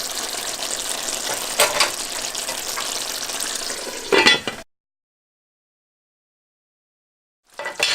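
Chicken yassa with sweet potatoes and cabbage cooking in a pan, a steady sizzle with a few stirring scrapes, cut off by a few seconds of silence before the sound briefly returns.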